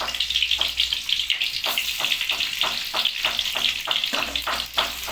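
Onions hit hot oil in a chicken-curry pan, giving a dense hissing sizzle with a regular series of stirring knocks, close and fairly loud, with no talk.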